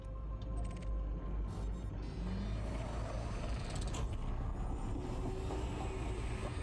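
A supercharged frame shift drive hums and rumbles steadily in the space game Elite Dangerous, a dense, continuous mechanical drone with faint creaks and clicks layered over it, and no talking.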